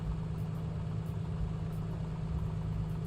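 Simulated Piper Comanche engine in Microsoft Flight Simulator, a steady low droning hum that holds evenly throughout, close and constant with no talking over it.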